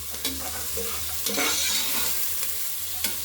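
Chopped onions fry and sizzle in a pan for Kannada-style vegetable pulao while a spoon stirs and breaks them apart, giving a steady close sizzle broken by several scraping stirs, with no talk.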